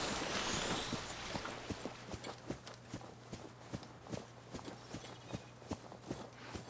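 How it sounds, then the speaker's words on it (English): Footsteps on land in the video game Subnautica, a steady rhythmic series of crisp, close thudding steps, like hooves clip-clopping, with no talking over them. "I like the sound that the footsteps make when you're on land."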